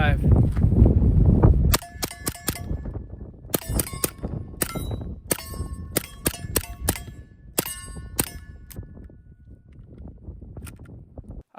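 Suppressed MP5 firing in its long suppressor configuration: a string of sharp, ringing metallic reports at an irregular pace, near and loud, after a short stretch of rumbling wind.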